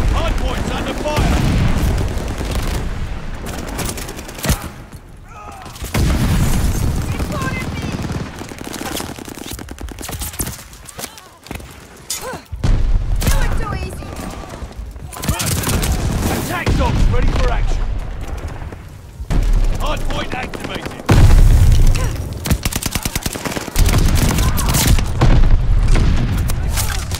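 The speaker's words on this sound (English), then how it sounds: "Death machine is ready to fire" Death Machine minigun fire in Call of Duty Vanguard Hardpoint multiplayer, loud sustained booming bursts of rapid gunfire with brief gaps, a dense battle mix with voices talking over it.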